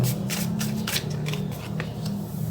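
Tarot cards are shuffled and drawn in a steady run of soft, papery flicks and riffles close by, over a constant low hum.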